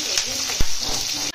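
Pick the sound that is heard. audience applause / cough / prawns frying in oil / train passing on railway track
prawns frying in oil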